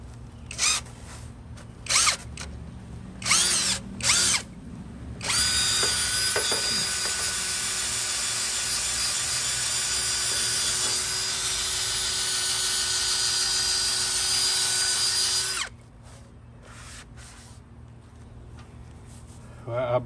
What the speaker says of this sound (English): I wonder if I can hold the pad on there with the drill.